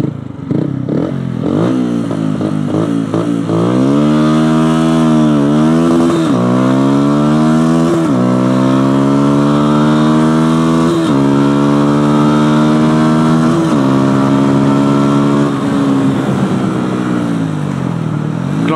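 A Yamaha YZF 125 four-stroke motorcycle accelerates hard through several gears, its engine note climbing in repeated rising sweeps with brief dips at each shift, loud, close and continuous, with no talking.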